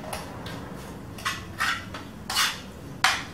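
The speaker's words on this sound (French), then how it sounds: "je mélange le tout" Shallots and marinade are stirred in a bowl, with a spoon clinking against the side in several sharp, irregular taps.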